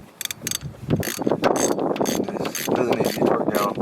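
A ratchet works on a part of a RaceIQ tuned E55 AMG supercharger during an oil change, giving rapid close clicking pawl strokes in quick runs with metallic rattles.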